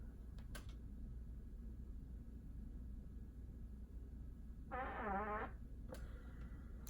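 A single fart lasting about a second, close and fairly loud over a quiet room hum, with faint clicks before and after.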